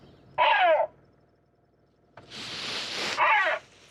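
Harsh, raspy recorded gull calls play through the loudspeaker of a handheld remote noise device used at Orly Airport: a short squawk, a pause, then a louder noisy burst ending in another call.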